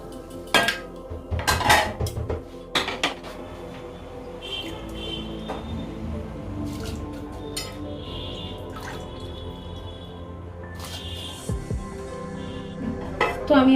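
Rice goes into a pot of boiling water with lentils on the stove, with metallic clanks of a pot and utensils, splashing drips and a steady background bubbling, clatters clustered near the start and end.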